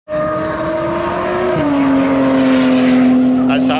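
A Lamborghini Revuelto fitted with a Gintani exhaust screams past on a race track, a loud sustained high-pitched engine wail that drops in pitch as it shifts and passes, heard from trackside.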